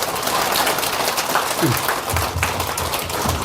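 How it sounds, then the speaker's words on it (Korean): An elderly audience at a gospel session of a spring filial-piety camp claps steadily, a dense, even patter of many hands filling the room, with a brief voice rising in the middle. "박수 힘차게 좀 쳐요"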